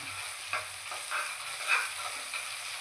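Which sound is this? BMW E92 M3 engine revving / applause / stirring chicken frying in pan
stirring chicken frying in pan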